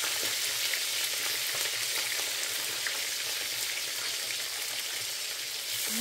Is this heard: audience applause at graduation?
no